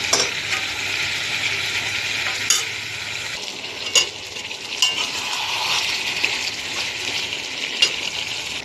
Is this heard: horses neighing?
no